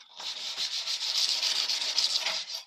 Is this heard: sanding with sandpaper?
yes